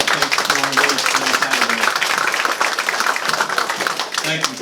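Banquet guests at a racing awards dinner clap for the race staff, a close, busy patter of individual hand claps with voices talking underneath.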